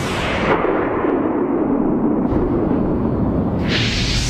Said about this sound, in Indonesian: Dia kemudian meminta Nami untuk segera menembakkan meriam itu